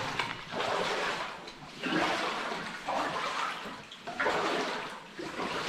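Water flows through an underground sandstone adit at the Riese complex tunnels in Gontowa, a loud, steady rushing that swells and eases in repeated surges, with no voices.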